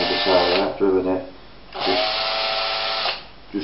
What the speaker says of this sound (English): I'm going to drill through.